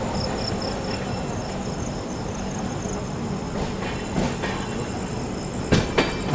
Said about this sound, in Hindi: निकल गई अपनी सीआर राजधानी भोपाल जंक्शन से